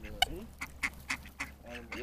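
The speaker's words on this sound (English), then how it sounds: "Got Pop Rock down there feeding the ducks." Ducks being fed quack in quick repeated bursts close by, a rapid series of short calls, while people chat over them.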